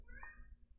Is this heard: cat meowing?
yes